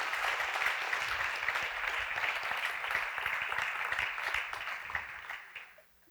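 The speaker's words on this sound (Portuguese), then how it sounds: "dê um aplauso a ele" A church congregation in Santos applauds during a bishop's sermon, a full, sustained roar of clapping from many people that tapers off and fades near the end.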